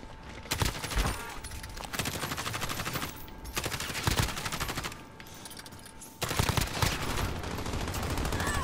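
Near-continuous automatic gunfire in a shooter video game, with dense rapid volleys that pause briefly around a few gaps, loud and close, with no talking over it.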